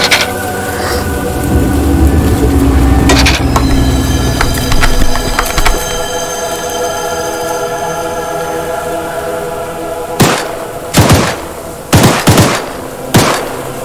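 Gunfire in the video game Choo Choo Charles: a dense rumbling barrage with train-like tones in the first six seconds, then several sharp, loud separate shots later on.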